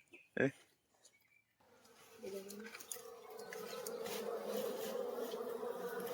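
Honey bees swarm around a hollow in a tree, their steady buzzing drone rising after a brief close knock and growing fuller and louder over several seconds, with faint voices beneath.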